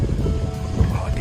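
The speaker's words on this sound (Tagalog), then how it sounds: "Lakas ng hangin." Strong wind blows outdoors at a Korean temple in Silang, Cavite, buffeting the microphone with a loud, continuous low rumble and gusty roar for a brief moment.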